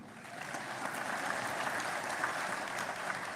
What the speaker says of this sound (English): You can applaud if you want.